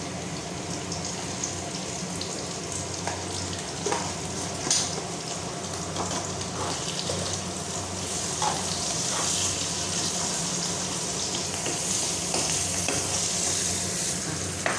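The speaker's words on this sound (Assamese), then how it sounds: "পিঁয়াজখিনি অলপ ৰঙাকৈ ভাজিলোঁ।" Onions fry in a pan with turmeric, a steady close sizzle with scraping stir strokes recurring every second or two as they brown for a red amaranth greens dish.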